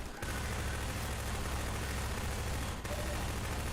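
Submachine gun fire in Half-Life 2, a continuous loud rattling burst of rapid shots lasting several seconds with a brief break near the end, close and dense.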